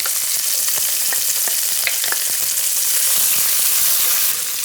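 Sliced onion and four cloves of chopped garlic fry in a pan, making a loud, continuous close sizzle broken by occasional scraping stirs, with no voices.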